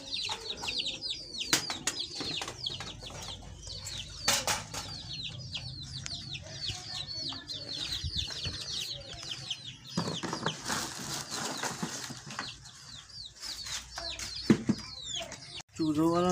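Chicks and quails in a cage keep up a dense, high chorus of cheeping and peeping, with soft clucks, wing flutters and cage rattles, while a voice speaks now and then.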